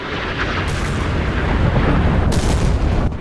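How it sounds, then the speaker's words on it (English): Missile strikes on a warship in the naval combat game Sea Power, a continuous roar of heavy booming blasts and rumbling explosions, loud and close, with sharper bursts near the middle and end. "Nice missiles going on the Virginia."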